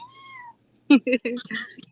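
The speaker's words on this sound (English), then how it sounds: "Come on, Kitty Cat" A cat meows, a short tonal call followed by a brief pause, with nearby human talk coming in right after.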